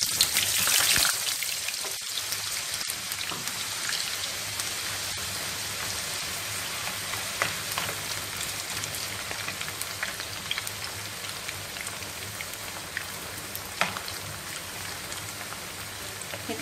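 Potato pieces frying in hot oil, giving a steady, dense crackling hiss like rain throughout, with brief sharper pops scattered over the sizzle.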